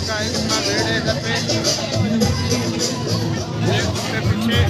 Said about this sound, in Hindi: देख सकते हैं गाइस, गाइस का भीड़ है घर पे